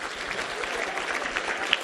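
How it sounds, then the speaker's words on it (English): Brief, steady applause from a conference keynote audience, a dense wash of many hands clapping at once with no speech over it. "I'd like you to give the guys a big round of applause"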